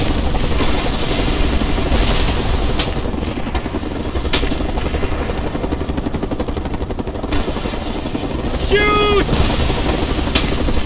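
An enemy helicopter in the Mercenaries 2 video game thrums steadily amid bursts of gunfire and shouted soldier voices, with other battle noises layered over the rotor drone.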